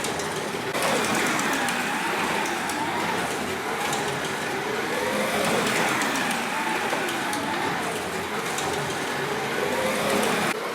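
Slot cars racing around a track against an automatic ghost car run by an analog rheostat controller, giving a continuous whirring motor drone that rises and falls in pitch for the whole stretch, steady and fairly loud.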